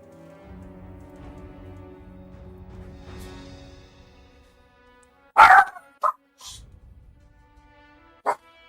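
A pet dog lets out several sharp, close barks in short bursts after a stretch of quiet, low background sound.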